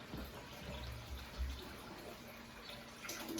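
Water pours from an aquarium pump outlet into a reef tank sump, a soft continuous trickling and splashing heard close and quiet, with no talk over it.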